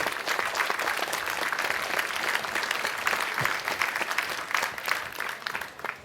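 A large audience at the 38C3 hacker congress applauds a talk on DNS with steady, dense clapping from many hands that fills the hall, holding evenly for about six seconds with no voices over it.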